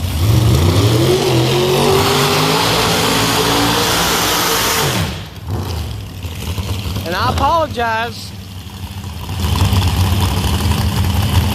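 Outlaw drag racing cars at Beech Bend Raceway, engines revving loud and rough, then dropping to a lower idle rumble, with a commentator talking over the noise throughout.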